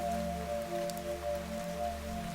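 Rain patters gently and continuously around a palace in a video game, a soft, uniform wash of droplets laid under sustained ambient music tones, with no talking.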